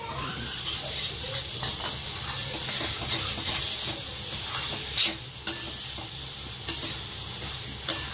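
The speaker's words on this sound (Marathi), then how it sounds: "गूळ छान मिक्स करून घेऊया। आता गूळ छान विरघळलेला आहे, त्यामध्ये आपण टाकूया ओला नारळ" Melted jaggery and grated fresh coconut are stirred in a hot pan with a soft continuous sizzle and hiss, broken by a few sharp scrapes and clinks of the spoon against the pan.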